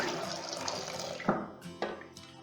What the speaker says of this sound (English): I'm just going to pour in all the stock